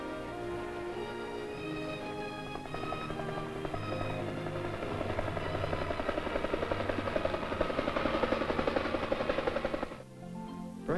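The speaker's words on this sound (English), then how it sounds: "The helicopter makes evacuation of the wounded faster and safer than ever before." A military helicopter evacuating wounded soldiers in Europe, its rotor thumping steadily and loudly throughout, building slightly before cutting away near the end.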